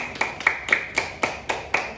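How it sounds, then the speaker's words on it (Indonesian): Steady rhythmic clapping, about four claps per second, close and fairly loud, from a small audience applauding Bang Fauzi at a children's reading and literacy discussion event. "Beri tepuk tangan dulu buat Bang Fauzi"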